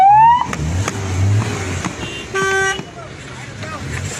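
Busy road traffic near the Islamabad toll plaza, with car horns tooting in short bursts and one longer honk among passing vehicles, loud and close, while people talk in the background.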